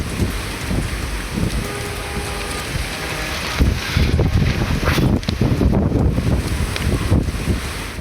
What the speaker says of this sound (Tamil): திடீரென பலத்த சூறாவளி காற்று வீசியது